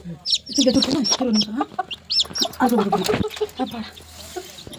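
A hen clucks repeatedly among chirping chicks at a home, the calls close and busy, mixed with people talking throughout.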